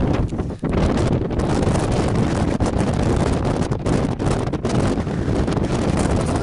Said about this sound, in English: It's so windy up here. I'll show you how windy it is.